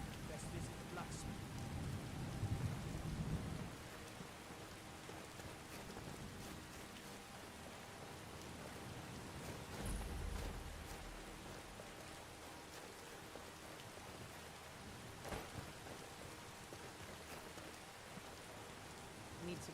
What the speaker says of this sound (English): That's why I'm hearing a storm and it was coming.